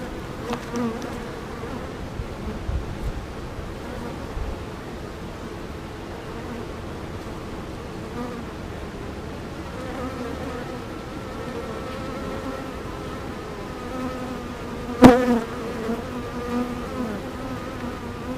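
Honeybees swarm around an open beehive in a continuous, even buzz, with a single sharp knock about two-thirds of the way through.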